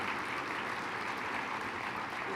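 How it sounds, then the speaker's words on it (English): An audience applauds at a regional economic development awards ceremony. The clapping is a dense, steady wash at moderate distance, with no distinct voices. "I want to give them a round of applause as well"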